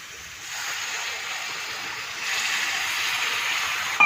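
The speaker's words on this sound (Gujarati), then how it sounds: "હવે અંદર આપણે પાણી નાખી દઈએ." Water poured into a pan of roasted masala for Gujarati papad curry, a steady rushing wash that rises and thickens partway through, loud and close, with no voices.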